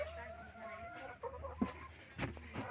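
Hens cluck softly and intermittently inside a coop while laying eggs, with a few sharper calls rising among the low, steady farmyard murmur.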